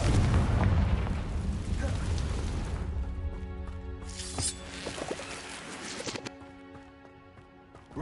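A Confringo fire spell in the video game Hogwarts Legacy, heard as a loud rumbling explosive blast that fades over several seconds into quieter tonal game sounds and scattered crackles.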